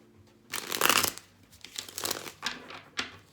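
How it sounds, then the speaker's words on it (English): A tarot deck is shuffled by hand in a few quick papery bursts of riffling and crinkling, the first and longest near the start and shorter ones following, close and fairly quiet with no talking. "2 more shuffles."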